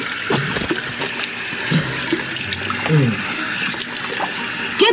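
Water running from a tap into a sink, a steady hiss and splash throughout, with voices talking and reacting over it.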